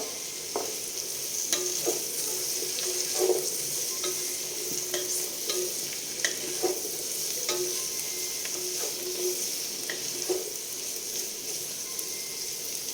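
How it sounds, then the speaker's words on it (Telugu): Tomatoes sizzle and fry in a pan for Telugu kalakoora dhappalam, with a steady hiss broken by frequent short stirring scrapes and clinks throughout. "టమాటో వేసుకుందాం."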